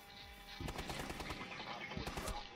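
Rapid automatic gunfire in the video game Rainbow Six Siege, a dense run of sharp shots starting after a short lull and continuing to the end, fairly quiet overall with no talk.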